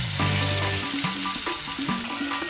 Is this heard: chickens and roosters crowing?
no